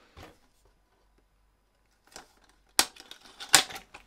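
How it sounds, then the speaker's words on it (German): A swimbait-style pike lure is pulled from its plastic packaging: a few quiet rustles, then two louder bursts of crinkling plastic and sharp clicks close to the mic, with near silence in between. "Ja, können wir auspacken"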